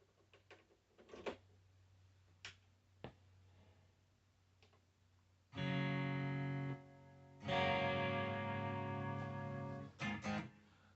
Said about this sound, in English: This is a little bit more affected. Has some reverb and some chorus on things.